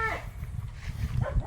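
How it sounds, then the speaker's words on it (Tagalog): A goat on a small Philippine farm raising chickens, bleating a couple of short wavering cries, one at the start and another near the end, close by over low background rumble. "Yung kambing ni ano, kambing ni nila Kuya Greg oh."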